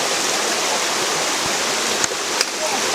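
Waterfall on a river at a fishing spot, a dense, loud, continuous rush of falling water filling the whole clip, with a couple of faint knocks near the end.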